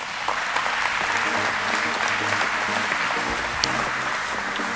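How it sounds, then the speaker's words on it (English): Sustained applause from the audience at the Gloucestershire Women in Business Awards 2015, clapping for all the nominees, steady and dense throughout with faint crowd noise. "a round of applause for everybody."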